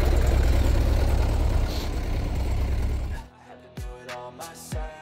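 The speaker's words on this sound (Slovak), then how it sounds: "Traktor si s ním poradí." Zetor tractor engine pulling a heavy field roller while rolling a field after spring wheat sowing, a loud steady diesel drone for about three seconds, then cutting away to quieter scattered sounds.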